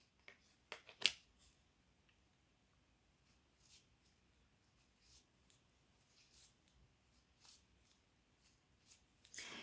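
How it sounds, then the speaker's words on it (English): A deck of tarot cards is shuffled in a few quiet, brief riffles and soft card slides, near and faint with long gaps of near silence between. "You guys saw me shuffle?"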